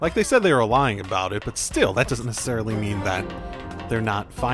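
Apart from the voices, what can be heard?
None of the usual background noises is heard.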